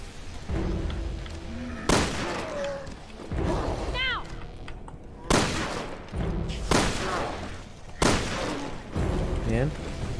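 Gunfire from the Resident Evil Revelations 2 video game: four loud, sharp shots spaced a couple of seconds apart over a constant background of game ambience, with a few faint whooshing effects between them.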